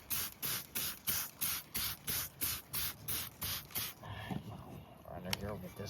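Cleaner is sprayed onto a 1970s Homelite chainsaw in about eleven rapid, evenly spaced hissing bursts, close to the microphone, then a quieter stretch of handling sounds.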